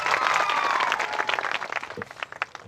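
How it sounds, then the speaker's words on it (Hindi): Audience clapping in a church gathering, a brief burst of applause that thins out into scattered individual claps. "दोनों के लिए ताली बजाए"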